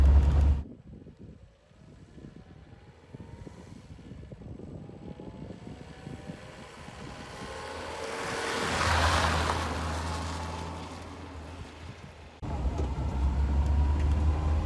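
A Peugeot 504 drives along a quiet country road: a steady low engine drone and road rumble with wind noise that swells midway, heard from inside the car and fairly faint throughout.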